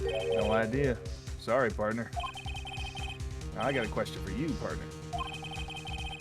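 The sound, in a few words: phone ringtone in video game Phoenix Wright: Ace Attorney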